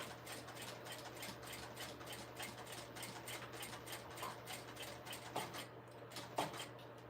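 A sewing machine runs back stitches on a tee, with a steady, fast mechanical whirr and ticking needle rhythm. It is close but low in level, and a few small clicks come near the end.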